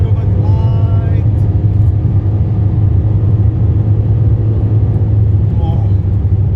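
A 2019 Ford Mustang under hard launch acceleration fills the cabin with a loud, continuous low engine rumble and road roar that holds steady throughout, with no speech over it.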